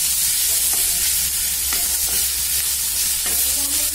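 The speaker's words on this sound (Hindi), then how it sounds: "हमने एक पैन में ऑयल लिया है और उसमें मैंने जिंजर गार्लिक पेस्ट, ऑनियन और कैप्सिकम डाला है।" Ginger-garlic paste, onion and capsicum saute in oil in a pan over a medium flame, giving a steady close sizzle with occasional stirring scrapes throughout.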